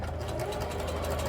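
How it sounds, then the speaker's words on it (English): A sewing machine runs briefly while stitching its first stitch, a soft, steady rapid mechanical chatter heard close and fairly quiet. "you just sewed your first stitch"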